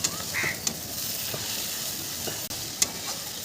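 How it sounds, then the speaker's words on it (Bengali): A spice paste is stir-fried in a pan at a rooftop picnic, giving a steady sizzle broken by a few sharp utensil clicks and a brief squeak. "আমি এখন মশলাটাকে কষি, পুড়ে না যায়।"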